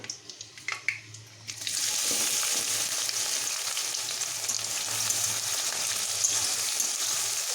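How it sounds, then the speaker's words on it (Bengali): Onions dropped into hot oil with bay leaf and panch phoron, a few clinks and light crackles first, then a steady loud sizzle that holds to the end with no speech. "পেঁয়াজটাকে আমি দিয়ে দিলাম এখানে আমি একটু সামান্য নুন দিয়ে এটিকে ভালো করে ভেজে নেব"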